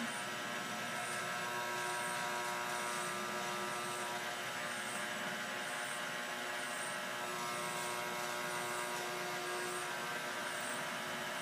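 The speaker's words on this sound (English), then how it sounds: "I'm going to knead the pasta with the mixer. Put it on number 2." A stand mixer on speed 2 kneads pasta dough, a faint, steady motor drone with a soft, regular pulsing that continues unchanged throughout.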